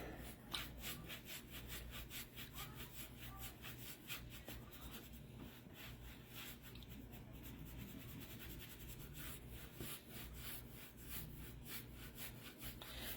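A brush works Annie Sloan dark wax over a scuffed wooden buffet, giving steady, close, repeated rubbing strokes with a dry, scratchy texture that continues throughout without talk.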